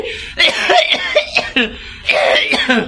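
A person coughs several times in harsh, throaty bursts, close and loud, with short pauses between fits and a brief throat-clearing quality.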